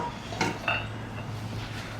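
A small stainless steel pot clanks and knocks a couple of times against a hard surface while camp cooking, sharp brief clinks over a low steady hum.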